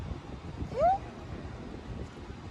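A cat outdoors near a house in Saudi Arabia gives a single short rising meow, fairly clear against steady wind noise and low background rumble.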